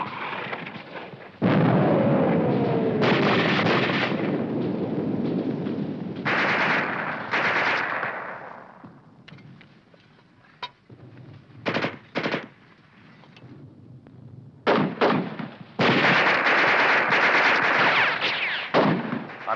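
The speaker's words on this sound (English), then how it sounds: "Keep firing that mortar! Keep it going!" Mortar and machine gun fire in a war movie battle scene, loud bursts of rapid automatic fire and heavy blasts alternating with brief lulls, close and forceful.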